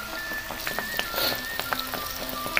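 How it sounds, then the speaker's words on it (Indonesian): Flour-battered egg frying in hot oil, a steady close crackling sizzle with scattered sharp pops and spits running throughout. "habis ditepungin kita masukkan ya ke dalam minyak."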